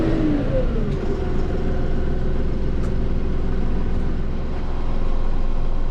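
A Mahindra 6065 PST 4x4 cab tractor turns around under its own power, its engine giving a steady, close, mid-low drone that holds an even level throughout, with no talking.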